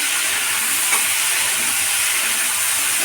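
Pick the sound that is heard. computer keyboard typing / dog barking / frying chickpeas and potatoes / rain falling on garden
frying chickpeas and potatoes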